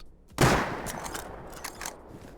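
A single sharp gunshot from standard ammo in the survival game Rust cracks loudly near the start, followed by a fading tail and a few faint clicks or footsteps.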